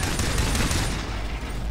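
Rapid gunfire from a stronger weapon in the game Far Cry 3 comes as a loud, continuous burst of shots that fades slightly toward the end, with no talk over it.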